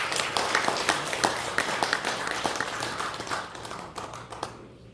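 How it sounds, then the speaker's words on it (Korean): Audience at an inter-Korean exchange association founding meeting in the National Press Club hall gives a sustained round of applause, dense individual claps rising and gradually fading out. "다시 한번 큰 박수 부탁드립니다"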